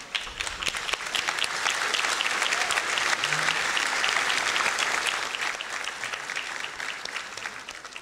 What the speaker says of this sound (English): I know you are very excited to applaud and acknowledge our amazing honorees